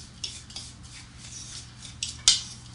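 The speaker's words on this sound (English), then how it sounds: "we're going to give this a nice, good mix and a stir" Monkey bread mixture stirred in a bowl, with soft scraping and light clinks of a utensil against the bowl, a few sharper taps near the end, fairly quiet and alone.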